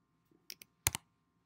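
A few quick keystrokes click on a computer keyboard, scattered taps in a short uneven burst, quiet and close in an otherwise silent room.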